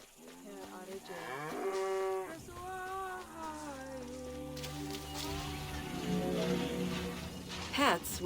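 Cattle lowing in the ancient Egyptian setting of the video game Assassin's Creed Origins, several long, drawn-out moos in sequence, fairly close and clear, with a soft voice briefly beneath them.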